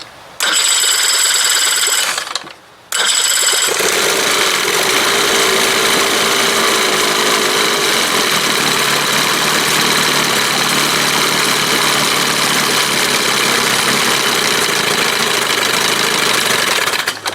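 A 1971 Johnson 20 hp outboard motor fires up after a short cranking burst and a brief pause, then settles into a loud, steady, close idle that runs to the end.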